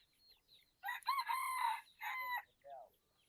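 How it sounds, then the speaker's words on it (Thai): Rooster crowing clearly at close range, a loud drawn-out call with a shorter follow-up, from a flock of around a hundred chickens kept at a rural home, with faint clucking before and after. "แล้วอันนี้ก็จะเป็นไก่น้อยเนาะ"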